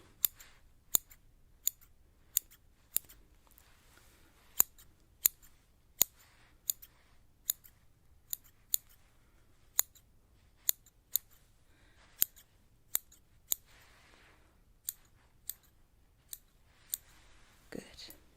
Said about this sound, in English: So I take most of the hair, just go trimming